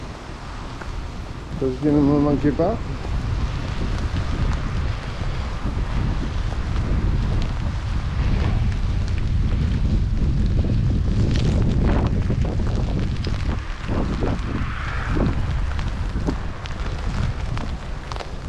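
Strong wind buffeting a microphone head-on during a rainy walk outdoors, a loud continuous low rumble with gusts, while someone speaks briefly over it.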